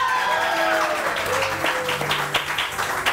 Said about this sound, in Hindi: अब इसी तरह से तालियां बजाइए अमसा के लिए भी,